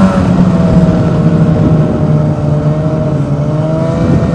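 Snowmobile engine droning steadily while riding along a trail, loud and close with a constant mid-pitched hum and slight shifts in revs.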